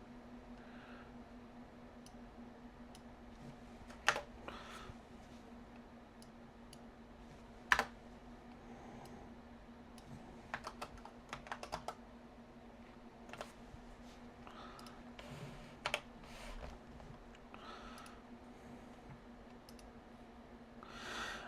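Sparse keystrokes on a computer keyboard while entering lawn-care ad text, a few isolated clicks and short bursts spread over a low steady hum, close and fairly quiet.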